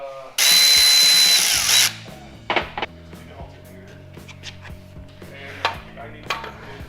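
Loud burst of a power drill or impact driver running lock bolts into Jeep XJ long arm kit parts, lasting about a second and a half, followed by scattered tool clinks and clatter in a garage.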